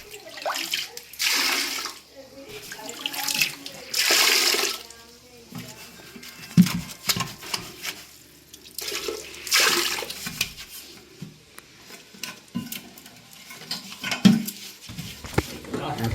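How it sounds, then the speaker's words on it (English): Water gurgles and drains from a toilet tank during a fill valve replacement, with bursts of rushing flow and occasional clunks, while a person talks over it. "And now we drain the tank."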